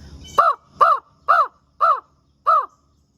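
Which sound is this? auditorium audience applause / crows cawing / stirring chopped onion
crows cawing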